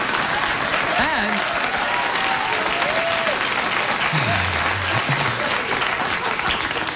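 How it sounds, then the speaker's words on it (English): A late-night talk show studio audience claps loudly and steadily, a dense sustained wash of applause with scattered whoops and cheers rising over it throughout. "Thanks for clapping."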